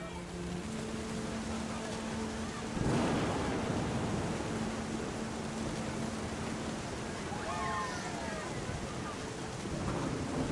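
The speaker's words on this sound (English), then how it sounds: "The thunder sounded much too close and full of angry power" A deep, rolling thunder rumble swells partway through a steady rain-like wash in What Remains of Edith Finch, with a low hum fading in and out and faint chirping tones near the end.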